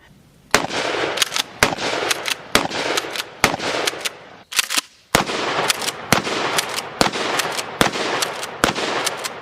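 A Mossberg 590 Shockwave shotgun fires buckshot, slugs and birdshot, a series of about fifteen loud, sharp outdoor blasts with short gaps between them and a brief pause midway, and no talking.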